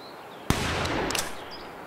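A single sharp hunting-rifle gunshot cracks out in the video game Hunting Simulator 2 and echoes briefly, followed by faint bird calls.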